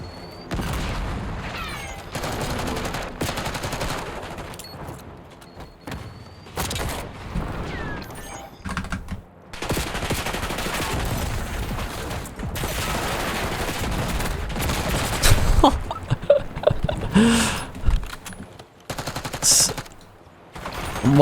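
Rapid bursts of automatic gunfire aimed at a counter UAV in Black Ops 6, loud and sustained with dense clusters of shots and heavy booms, no voices over the shooting.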